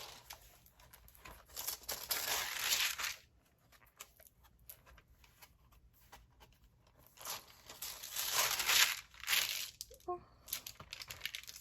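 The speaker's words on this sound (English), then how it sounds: "But it's parchment paper." Thick, yellowed old parchment paper and cardstock from an estate sale are handled and shuffled at close range, giving bursts of crinkling and rustling that rise and fade, with a quiet lull in between and a soft tap near the end.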